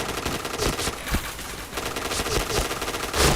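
Rapid automatic gunfire in the shooter game Point Blank crackles in dense, continuous bursts at a steady loud level, with a few sharper cracks standing out.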